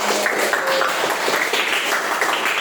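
Classroom of junior high students clapping together in a short, steady burst of applause, dense and fairly close, with no one speaking over it.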